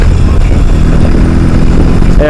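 A BMW R 18 Bagger with its 1,800 cc boxer engine, a steady, low, rumbling run heard close and loud throughout, with no break in the tone.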